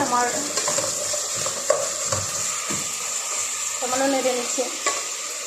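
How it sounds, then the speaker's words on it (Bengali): Meat frying in a pan and being stirred, with a steady close sizzle broken by occasional spoon scrapes and knocks against the pan, no voices. "কিছুটা আমি এখন সামান্য নেড়ে নিচ্ছি"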